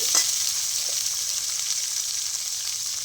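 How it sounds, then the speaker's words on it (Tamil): Onion, tomato and green chili sautéing in a pan with garlic for a fish curry, a steady bright sizzle with a few stirring clinks near the start, no talk. "வெள்ளைப்பூட நல்லா வதக்கிட்டு இந்த வெங்காயம், தக்காளி, பச்சை மிளகாயெல்லாம் கொட்டிடணும்"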